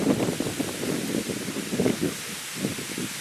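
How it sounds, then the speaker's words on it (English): Gusty wind sweeps across an open farm field, buffeting the microphone while shade tents flap and rustle in irregular bursts, loud and close. "And you see we're getting a bit of wind"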